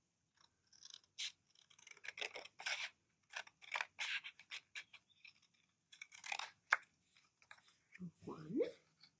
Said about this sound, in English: I'm going to cut the lines.